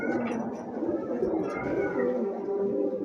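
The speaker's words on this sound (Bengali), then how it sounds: "এই যে দেখেন খুবই সুন্দর এক জোড়া কবুতর" A pair of pigeons cooing nearby, low soft throaty coos repeating through the clip over a faint background murmur.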